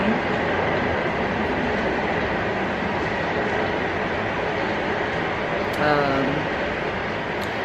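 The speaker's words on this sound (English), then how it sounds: "But there goes the train." A train rumbles past outside an open window as a steady, broad roar that fills the whole clip, with a brief squeal or horn-like tone near the end; no clear talk over it.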